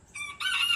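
An Old English Game Bantam cockerel crows once, close and clear, in a brief bright call that rises partway through.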